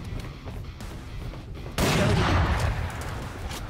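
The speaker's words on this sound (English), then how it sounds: "I don't know who they're shooting at exactly." Gunfire in the Valorant video game: after a quiet stretch, a loud burst of shooting suddenly erupts and rattles on for a couple of seconds before easing slightly.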